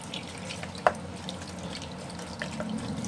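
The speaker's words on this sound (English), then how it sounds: "So once I'm done washing, I'm going to wash it like 3 times." A kitchen tap runs steadily while sweet potatoes are washed for a Nigerian porridge, with a soft continuous stream, one sharp knock near the start and faint drips.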